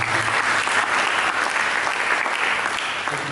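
A church congregation breaks into loud, sustained applause during a sermon, a dense, even wash of clapping that fills the room with no break.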